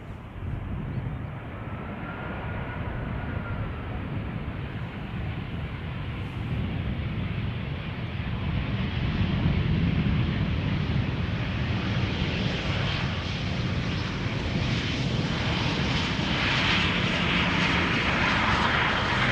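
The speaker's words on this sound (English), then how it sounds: "here we go, EasyJet A319." Steady jet roar from an EasyJet Airbus A319 at Schiphol Airport, moderately loud and building gradually, with a low rumble underneath and no talking.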